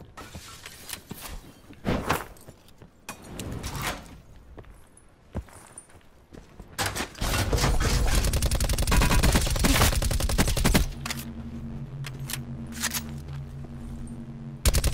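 Gunfire in Call of Duty Blackout: scattered close shots and bursts build into a sustained rapid automatic volley lasting several seconds, followed by mechanical clatter and more shots, with no talking.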